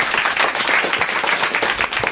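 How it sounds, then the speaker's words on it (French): Studio audience applause sending off a departing guest on a French-language talk show: brisk, dense clapping holding loud and steady from start to finish. "Merci Monique Pantel, on vous embrasse et on vous applaudit."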